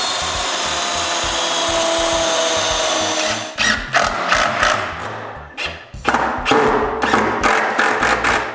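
A power drill drives screws through wood strips while they are glued in place, first a long continuous whir, then a string of short bursts of motor whine and thumps, close and loud.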